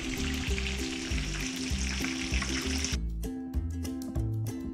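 A large batch of meatballs frying in a pan, a loud, dense sizzle and crackle close up, mixed with clattering and a tonal hum from the kitchen, and no voices.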